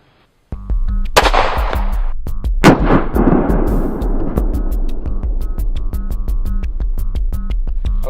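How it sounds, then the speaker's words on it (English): A 9mm G2 round is fired into a level IIIA body armor vest as one sharp, loud close gunshot that cracks out of near-silence, followed by a long ringing buzzy tail and brief echo. "we're going to fire one shot into the vest"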